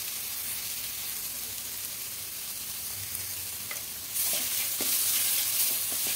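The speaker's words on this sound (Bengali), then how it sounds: "খুব ভালো করে মিশিয়ে নেব সমস্ত মশলার সঙ্গে" Spice paste with chilli powder and other ground spices frying in a pan for a fish-head kalia, a steady close sizzle that swells louder midway, with scraping strokes of stirring and no speech.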